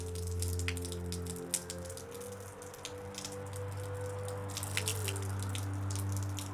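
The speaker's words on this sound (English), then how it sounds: "There is some water leaking from my roof." Water drips steadily from a leaking roof indoors, scattered soft taps and splashes over a constant low household hum, with no talking.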